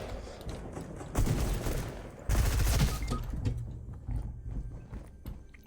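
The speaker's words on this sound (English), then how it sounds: "I know they're shooting at me, Nick!" Close bursts of rapid gunfire crackle through a video game shooter match, two dense volleys with scattered single shots trailing after, and no voices over them.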